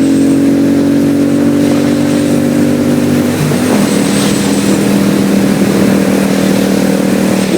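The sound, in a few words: 2002 Suzuki VS800 Intruder motorcycle engine while riding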